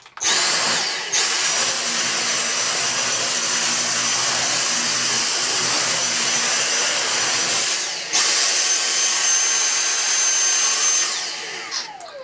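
Dyson V6 Animal cordless stick vacuum running at max power on carpet, a loud steady high-pitched whine held for about seven seconds, a brief dip, then another sustained burst before cutting off; no talking.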